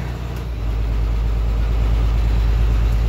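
A car engine held at a raised idle with light throttle, a steady low rumble that climbs slightly after the first half second and then stays even and close, with no voices.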